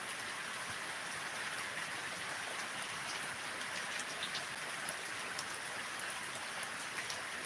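Heavy rain pours down steadily outdoors, an even, continuous wash of hiss and pattering drops with no pauses.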